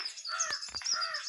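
Crow caws in the Granny horror video game, a few short harsh calls close and fairly loud, with faint clicks between and no talking.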